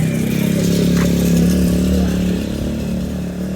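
A small motorcycle engine powering a wheelchair-style motorcycle cart in Mexico idles loudly and steadily nearby with a buzzing, chainsaw-like drone that eases off slightly toward the end.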